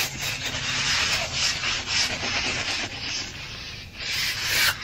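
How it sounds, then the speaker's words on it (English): A steel trowel scrapes and rubs continuously across a wet finish surface in close, rasping sweeps with a gentle pulsing rhythm. "So this is a steel trowel."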